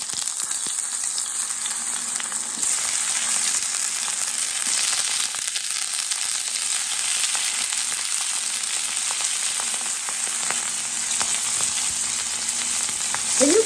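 Brussels sprouts sizzle cut side down in a couple of tablespoons of olive oil in a skillet, giving a steady close frying hiss with small oil pops throughout and no talk.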